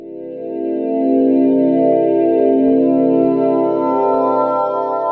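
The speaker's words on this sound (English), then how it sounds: "we were able to create our own instruments and make sounds like this" A sustained synthesized tone with layered harmonics, built from NASA space recordings, swells in and holds steady, a droning electronic instrument sound with slight shimmering texture.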